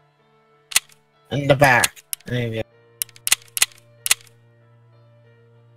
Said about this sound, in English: Wow, 4 shots.